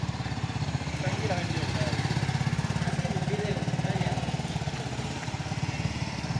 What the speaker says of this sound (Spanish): alguien tiene la curiosidad de escuchar cómo suena esta moto